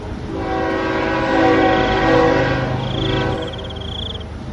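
A cartoon train rumbles steadily along a railway for several seconds, with a continuous loud droning roll and a horn sounding near the end, no voices over it.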